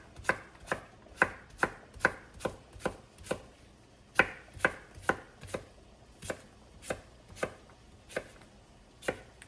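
A knife chops food on a cutting board in quick, steady, sharp knocks, about twenty close strikes with brief pauses, no talking.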